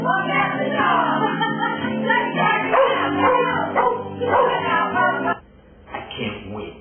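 A pet dog barks and howls in a loud, sustained, tonal run alongside karaoke singing, continuing for several seconds before dropping off sharply near the end.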